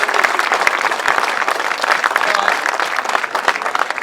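Sustained applause from a large crowd at a grasstrack motorcycle racing meeting, dense continuous clapping with some voices mingled in, fairly loud and even throughout.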